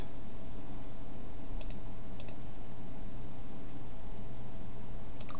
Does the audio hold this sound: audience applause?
no